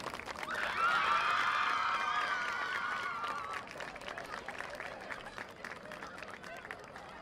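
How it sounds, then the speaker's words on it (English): A stadium crowd cheers and applauds for graduating high school seniors at a field hockey game, a swell of voices and clapping that peaks early and then fades into a softer, steady patter. "a large round of applause for the class of 2018, your Wayne Valley seniors"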